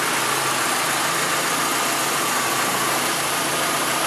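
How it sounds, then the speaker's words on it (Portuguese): A 1998 Opel Kadett GLS engine idles smoothly and steadily, a loud constant hum with no talking over it. "O funcionamento do motor redondinho."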